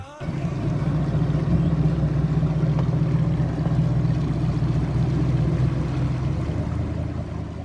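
A boat moves across open water, its motor giving a steady low drone that starts abruptly and holds at an even, fairly loud level before easing slightly near the end.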